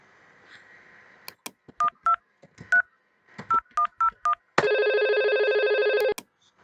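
A sequence of DTMF dialing tones from a simulated VoIP phone call in Packet Tracer: seven or eight short, evenly clipped beeps, followed by a longer, loud steady ringback-style tone lasting over a second.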